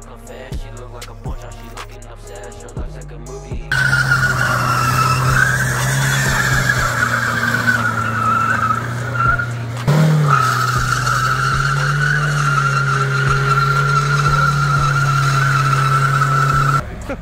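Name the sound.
car doing a burnout, tires skidding and squealing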